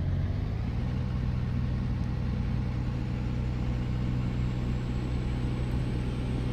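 An old Caterpillar tractor engine climbs a hill in Farming Simulator, giving a steady, close, low rumbling drone that holds constant throughout with no talking.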